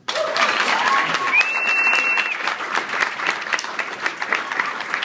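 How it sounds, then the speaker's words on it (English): An audience applauds a woman who ran the full marathon, steady loud clapping filling the room from start to finish, with a few brief whistles or cheers rising partway through. "Give her a round of applause."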